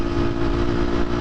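A 2023 KTM 250 XC-F dirt bike running on the street, its engine giving a steady, fairly loud mid-pitched drone at close range with a slight rough pulse, briefly and without talking.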